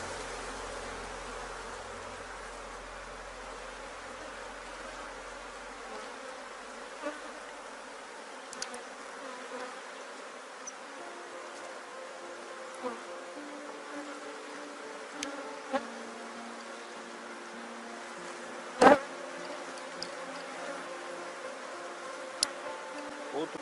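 A honeybee swarm hums during a hive inspection. The buzzing is soft, steady and continuous, with individual bees droning past close by and a few faint knocks from handling the frames.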